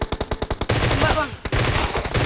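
Rapid automatic gunfire in PUBG Mobile on the Erangel map, a burst of sharp evenly spaced shots followed by dense sustained firing, loud and close, with a brief gap before more shots.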